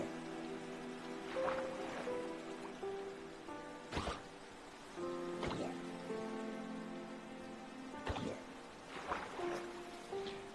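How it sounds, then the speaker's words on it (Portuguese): Rain falls in the video game Minecraft, a steady soft patter that runs under tonal game music, broken by a few sharp thumps. "Agora com essa chuva aqui,"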